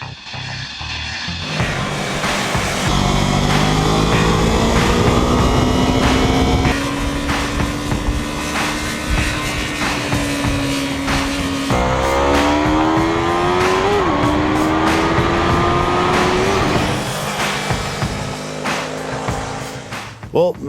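A 2015 Yamaha YZF-R3 entry-level sport bike with a parallel-twin engine, ridden on Thunderhill Raceway, its engine droning loudly through rising and falling revs and gear changes as it passes close by.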